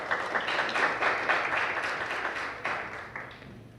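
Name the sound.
audience applause at a debate contest final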